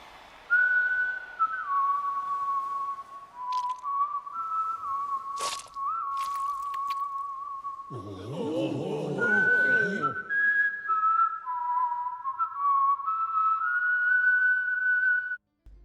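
Poseidon character in the Roblox game All Star Tower Defense whistling a loud, clear, wavering melody of sustained notes. A short burst of noisy clatter breaks in midway before the tune resumes.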